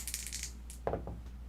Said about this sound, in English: let's get out the dice here.